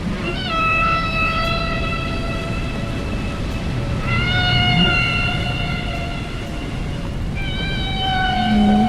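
A cat meows in a Roblox video game, three drawn-out, wavering meows spread across the clip, loud and close over a low rumbling background, with no speech.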